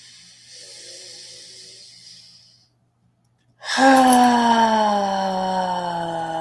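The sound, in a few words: deep breath taken during a breathing exercise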